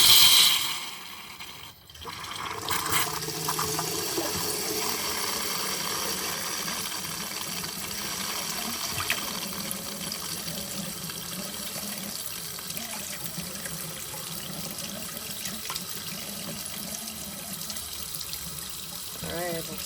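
Hot water runs steadily from a tap fed by a Truma AquaGo water heater after decalcifying and cleaning, a continuous close splashing rush that holds for about twenty seconds with no talk.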